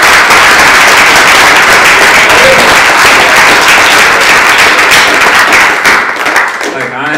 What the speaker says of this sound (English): can we give another round of applause for that?